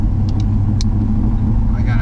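A car engine hums in a low, steady rumble while driving, filling the cabin continuously, with a few faint clicks and a brief rising tone over it.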